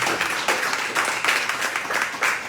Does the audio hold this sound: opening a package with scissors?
no